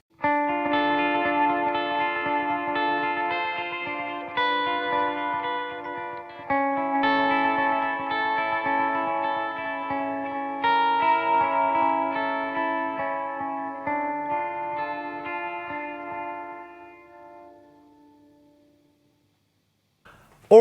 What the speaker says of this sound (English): the Mako series by Walrus Audio is a fantastic delay